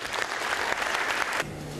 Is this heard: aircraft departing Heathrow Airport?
no